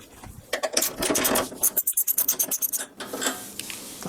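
Screw being backed out of a sim racing seat mount for a Simlab P1-X rig, rapid ratcheting clicks from a hand tool in quick bursts, close and fairly loud, with scraping metal between.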